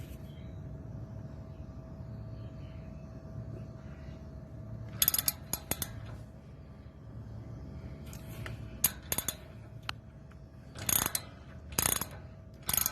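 A ratchet loosens a 12 millimeter brake bolt on a 2016-2020 Toyota Tacoma TRD during rotor work, heard as several short bursts of sharp close clicking separated by quiet gaps under a faint steady hum.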